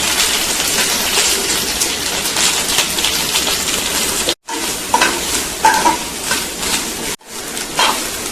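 Rice being stirred and fried in a pan with dried red chillies and curry leaves for prasadam makes steady sizzling and scraping, close and loud, broken by two brief silences.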